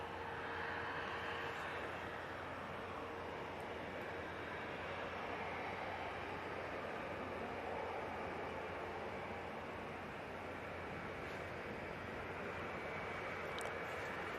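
A distant jet airliner takes off from Manchester Airport, a faint, steady broadband roar that holds for the whole stretch with no voices.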